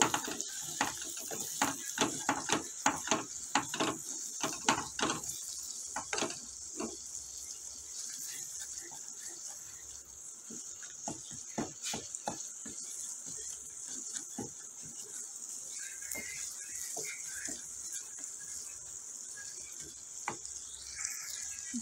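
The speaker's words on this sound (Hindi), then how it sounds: "मगज़ा ऐड कर दिया, इसको अच्छी तरह भून लेंगे।" Goat brain (maghaz) frying in a pan with tomatoes and onions, a steady high sizzle running throughout with irregular clicks and scraping taps of stirring, fairly close and without voices.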